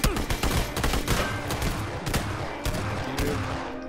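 Incoming gunfire in a PUBG match, a dense run of overlapping shots and cracks with irregular bursts, fairly loud and continuous, with faint voice sounds in the background.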